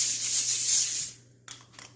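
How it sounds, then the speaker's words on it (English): Cooking spray hisses onto a baking pan for biscuits in one loud, close burst of about a second, then fades, followed by a few faint clicks and rustles. "A little spray on there, because you don't want your biscuits to get stuck up on there."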